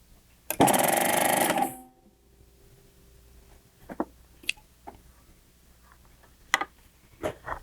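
A Baby Lock Acclaim serger runs in one loud, dense burst of about a second, then stops; a few faint clicks and small handling knocks follow in the quiet.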